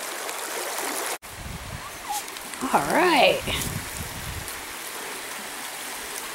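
A flowing mountain creek rushes steadily, a continuous broadband wash of water heard close, while footsteps and a brief spoken voice come through partway.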